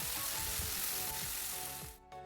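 Two finely chopped medium tomatoes sizzle and fry steadily in a hot pan while being mixed, a dense continuous crackle that thins out near the end.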